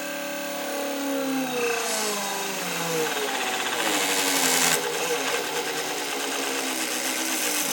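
A homemade brushless LEGO motor spins up at high speed, a loud buzzing electric whine with rising and shifting tones and rattling vibration, running continuously.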